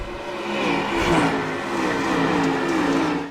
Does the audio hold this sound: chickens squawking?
no